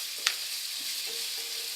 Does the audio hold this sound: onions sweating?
yes